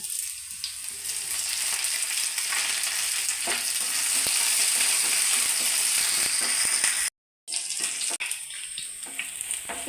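Oil sizzles and crackles steadily in a pan while coconut chutney curry ingredients fry toward light brown, with a brief drop to silence partway through.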